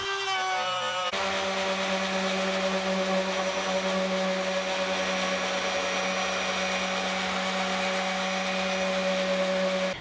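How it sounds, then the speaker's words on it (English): Cordless router cutting a notch into a wooden guitar neck for a three-string license plate guitar, switching on after a second into a steady, loud, whining hum that holds without a break. "I'm going to use a router to make a notch where the neck will fit the body."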